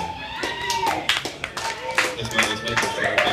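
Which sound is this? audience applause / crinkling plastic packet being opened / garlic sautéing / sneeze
audience applause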